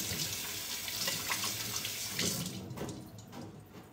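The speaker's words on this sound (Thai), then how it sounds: "ขอล้างมือแป๊บหนึ่ง" Running tap water pours steadily into a kitchen sink while hands are washed, a close full splashing rush that thins and breaks into uneven trickles and splatters near the end.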